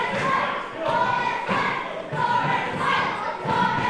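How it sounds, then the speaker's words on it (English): A pro wrestling crowd at a Pro2 show chants in a rhythmic call, loud swells repeating every second or so, with the arena's roar filling the gaps between beats. "This Pro2 crowd chanting Thomas really wins."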